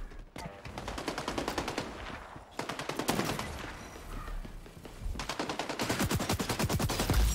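Rapid automatic gunfire from the video game XDefiant, loud and close, in three sustained bursts of fast repeating shots separated by brief pauses, with dense game action underneath.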